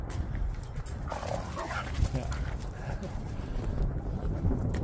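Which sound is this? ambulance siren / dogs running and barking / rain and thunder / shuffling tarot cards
dogs running and barking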